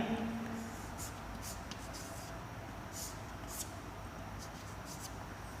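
Pen writing out a maths lesson, soft scratchy strokes coming in short bursts, quiet and close over a low steady background hum.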